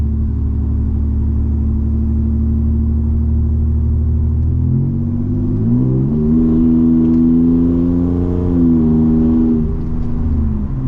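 A 2019 Ford F-150 with a 3.0 Powerstroke diesel and straight pipe exhaust rumbles steadily at idle, then revs up around the midpoint and settles into a louder, fluctuating engine drone, close and continuous with no talk.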